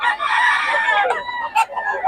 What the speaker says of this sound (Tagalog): Ganda ng manok ni Boss Tony